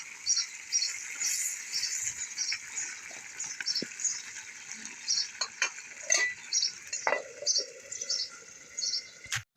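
Mutton being stir-fried in a clay pot, with a continuous bright sizzle broken by repeated scraping and clinking strokes of a spatula, close up, with no one speaking.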